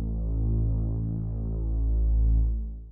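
A dark synth bass pad from Vital, pushed with drive distortion, throbs low and steady for the full three seconds, swelling gently in intensity with no voices.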